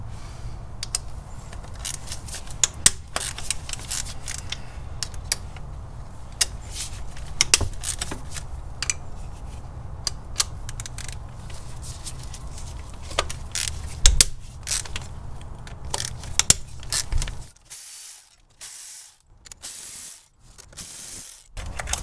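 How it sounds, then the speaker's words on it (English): Ratchet clicking and creaking while removing 12mm bolts holding the fuel rail to the intake manifold, repeated bursts of ratcheting close up, ending in quieter handling sounds. "we can now disconnect the two 12mm bolts on each side and be able to pull these fuel rails up"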